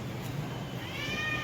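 A cat meows once, a short rising, tonal cry near the end of the brief stretch, close by over a faint low room hum.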